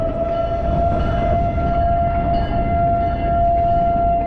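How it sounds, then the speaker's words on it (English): A loud, steady fire siren tone holds over the heavy rumble and clatter of a passing train beside the Delaware River, both continuous and close throughout. "We got the fireman sirens. We've got the train going through."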